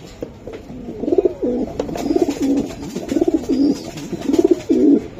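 Male racing pigeon cooing at close range in repeated rhythmic bursts, several low throaty coos rolling one after another with a little background noise between them.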